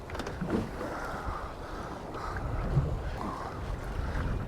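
An easterly wind buffets a small fishing boat on the UK coast while out bass fishing, giving a low, rough rumble of wind noise with gusts swelling and easing, no voices.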